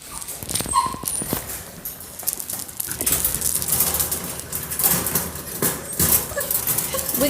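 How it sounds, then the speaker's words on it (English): A dog outdoors gives short whimpers and yelps at moderate distance, repeating irregularly over steady background noise. "There's my dog."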